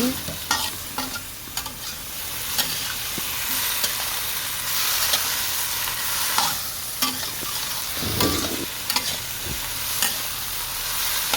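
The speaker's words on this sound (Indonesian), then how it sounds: "Lalu tumis kembali." A steady sizzle of bottle gourd stir-fried with water in a pan, with repeated scraping, clacking stirs of a utensil against the pan throughout.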